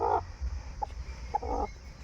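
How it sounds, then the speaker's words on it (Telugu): A brooding hen sitting on eggs gives short clucking calls in bursts, close by over a low background rumble. "కోడి ఇదే పొదిగిన కోడి"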